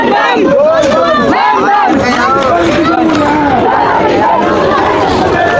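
A dense crowd of pilgrims at the Har Ki Pauri ghat on the Ganga, chanting and shouting together in loud, rising and falling voices that fill the space close by.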